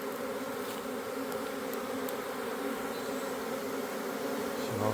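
Honeybee swarm moving into a new hive box, a dense, steady buzz of many wings fanning close by, holding at an even loudness throughout with no voices.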